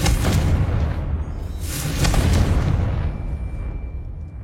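A Confringo blasting spell goes off in a video game, giving a deep booming explosion with a rumbling burst that fades over a few seconds, loud and alone.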